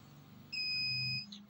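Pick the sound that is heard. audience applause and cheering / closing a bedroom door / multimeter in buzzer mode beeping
multimeter in buzzer mode beeping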